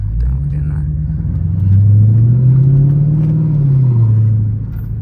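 A Chrysler 300 SRT 392 pulls away, its engine a deep, close rumble that rises in pitch and holds, then eases back as the car rolls off.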